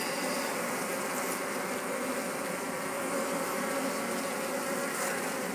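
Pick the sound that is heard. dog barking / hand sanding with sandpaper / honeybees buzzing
honeybees buzzing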